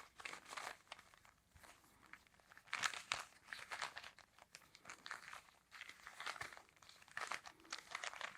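Twisting puzzle-cube fidget toy turned by hand up close, producing faint, soft crunchy grinding clicks in irregular bursts, quiet and intimate with no voices.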